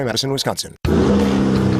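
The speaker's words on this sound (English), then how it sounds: "That's the sound of the 2023 Chevy Silverado's turbo high-output engine." A 2023 Chevy Silverado with its turbo high-output engine revs loudly and steadily for about a second after a short stretch of talk that stops abruptly.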